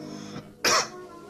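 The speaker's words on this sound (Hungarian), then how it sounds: "Maga köhög?" A single sharp cough sounds up close, one short loud burst after a quieter moment in an indoor scene.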